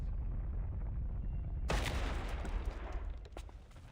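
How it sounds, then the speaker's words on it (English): A door is blown apart by an explosion in the Reverse 1999 video game: a sudden loud blast cuts in after a low rumbling lead-in, then a roaring wash of debris decays and thins toward the end, with no speech. "The explosion sends smoke and dust flying into all directions."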